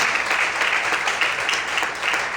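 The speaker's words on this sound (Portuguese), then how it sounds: "Se você recebe esta palavra, aplauda o Senhor, glorifica a Deus nessa noite." Church congregation applauding during a Portuguese sermon, a dense, continuous wash of many hands clapping at a steady, fairly loud level with no one speaking.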